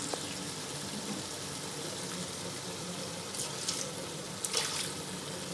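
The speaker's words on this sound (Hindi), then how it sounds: "डाल दिया मैंने इसके अंदर थोड़ा सा पानी" Water is poured into masala frying in oil in a pan for an egg kofta curry: a steady, close, hissing wash of liquid with a few sharper splashes near the end, and no talk.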